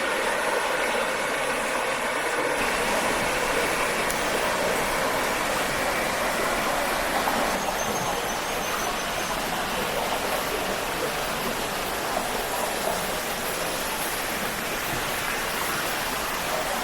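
Constant rushing of a river flowing beside a forest path near waterfalls, a dense, even wash of water noise holding steady throughout with no voices.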